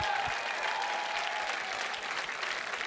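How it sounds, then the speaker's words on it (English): An audience at a mountaineering gala applauds the racers, a steady, moderately loud wash of clapping from a crowd that holds evenly for a few seconds without talk. "So one more round of applause for our amazing racers."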